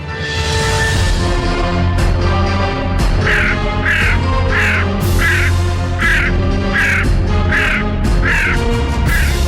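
A crow caws over and over in a regular rhythm of harsh, rasping calls, loud and close, over a dense, steady background.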